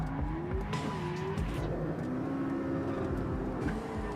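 A McLaren P1 supercar, rated at 916 horsepower, drives with its engine revving steadily, and tires squeal and skid throughout. The roar is loud and continuous, with no talk over it.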